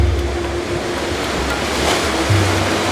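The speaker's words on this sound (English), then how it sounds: "There is a huge wave coming." Ocean surf roars steadily, a broad rushing wash of breaking water with low rumbling swells, loud and close, no voices.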